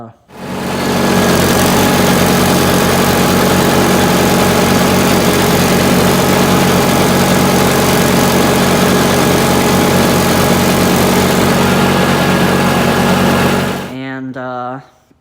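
A John Deere GT18 lawn tractor mowing, its engine running loud, close and steady for most of the stretch, then cutting off near the end as a brief voice speaks.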